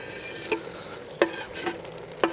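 A utensil stirs green peppers into one-pot smoky BBQ steak pasta, giving soft scraping strokes and three faint clinks against the pot over a low sizzle.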